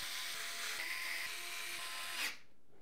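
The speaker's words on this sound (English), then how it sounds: "we can then secure the motherboard into place using 9 of the screws from the front of the case" Screws are driven to secure a motherboard into a Cooler Master TD500 Max PC case, giving a steady, close, high whirring drone that runs for a couple of seconds and then cuts off abruptly.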